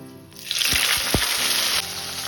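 A sudden loud hiss erupts as onion drops into hot oil with cardamom, sizzling strongly for over a second before settling into a softer, steady crackle.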